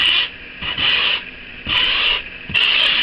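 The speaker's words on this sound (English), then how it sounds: "the reason I use one of these big files is because I can hit a lot of foam at once" Big coarse file rasped across foam terrain in repeated long strokes, a loud scratchy hiss swelling and fading roughly every second, close up and alone with no talking.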